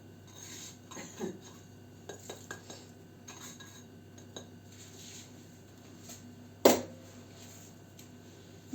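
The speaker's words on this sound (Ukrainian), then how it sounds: "Отако розтираємо цукор з яйцем." Sugar rubbed together with two eggs in a bowl for nut-shaped cookies with condensed milk, giving soft, scraping utensil strokes and light clinks at a close, quiet level, with one sharper knock partway through.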